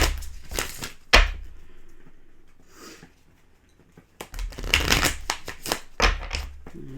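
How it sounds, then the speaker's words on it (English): A deck of oracle cards is shuffled in quick, close bursts of riffling and flapping, with a quiet pause between two rounds of shuffling. "Let me get some more oracle cards here."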